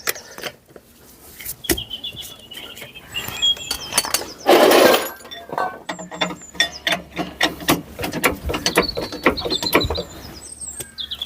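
Mechanical clicks and clinks of a ratchet tightening the locking brake caliper bolts on a Vauxhall Adam during disc and pad replacement, close and intermittent, with one louder broad burst midway and scattered metallic taps throughout.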